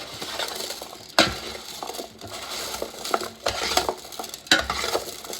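Chicken and vegetables are tossed with paprika and garlic powder in a bowl or pan, producing close, continuous stirring and scraping with several louder clanks of a utensil against the dish, no voice heard.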